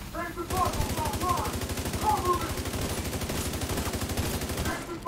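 A machine gun turret fires in The Division 2, a fast, even, sustained burst of rapid shots, dense and continuous for several seconds, with a brief pause at the start.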